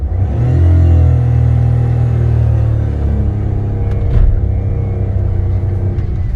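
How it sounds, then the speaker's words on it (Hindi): A car engine pulls away in fourth gear, a loud low rumble that swells as the vehicle labours and gains speed, steady and close for several seconds with a brief knock midway. "मैंने 4th गियर में गाड़ी उठाई है, गाड़ी उठ के चल दी है"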